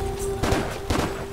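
Two loud gunshots in the action video game Stranglehold, fired a half second apart over a steady background hum of the game.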